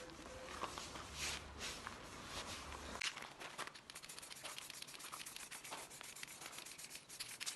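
Tack cloth wiped over a car bumper repair before the base coat, a steady close rubbing and scuffing that continues in repeated strokes with no talking.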